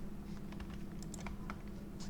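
Computer keyboard keys tapped in a short run while entering a word for a website landing page button, soft clicks spaced irregularly over a steady low hum.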